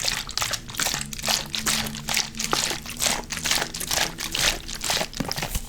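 Close, continuous crinkly crunching with liquid sloshing and handling of a plastic vitamin water bottle, steady texture throughout.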